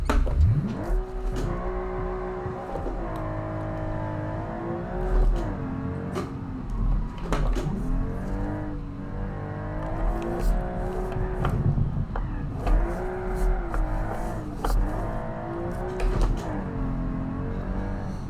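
A Group B rally car inspired by the Porsche 911 drifting in a driving game, its engine droning and rising and falling in pitch through repeated revs and gear shifts, loud and close with no talk.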